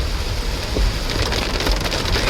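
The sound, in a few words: heavy rain during a car journey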